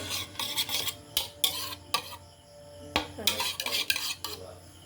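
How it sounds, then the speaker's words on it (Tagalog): A whisk or spoon stirs pancake batter in a bowl, scraping and clinking against the sides in quick uneven bursts with a short pause midway, close and fairly loud with no talking. "I-mix muna natin, guys."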